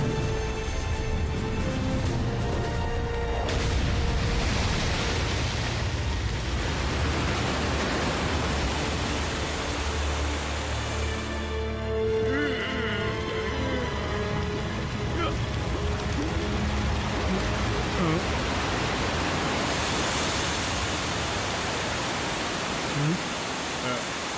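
Loud, steady rush of water pouring onto lava in a Transformers Rescue Bots cartoon, a continuous hissing roar that fills the whole stretch with little change.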